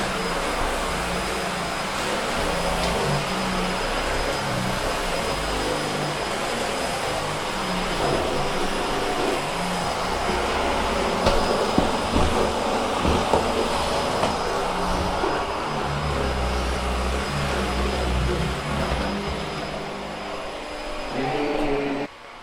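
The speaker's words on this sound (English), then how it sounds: "That cat, definitely disturbed by my vacuuming." A Hoover H Upright 500 Sensor Plus upright vacuum cleaner runs continuously during a full house clean, a steady close whirring roar with a high whine and slight shifts as it moves across the floor.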